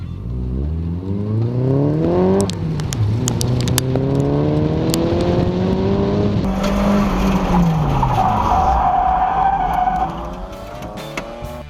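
A 1995 turbocharged Miata runs an autocross course, its engine climbing and falling through shifts while tires squeal and skid loudly near the end, close and continuous with no talk.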